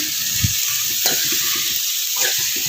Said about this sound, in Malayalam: അരിഞ്ഞു വെച്ചിരിക്കുന്ന സവാള വെളുത്തുള്ളി തക്കാളി ഇഞ്ചി കറിവേപ്പില ഇത് മൂന്നും കൂടെ ഇത് ഇതെല്ലാം കൂടെ നമ്മൾ ഇട്ടിട്ട് നന്നായിട്ടൊന്ന് വഴറ്റി കൊടുക്കുകയാണ്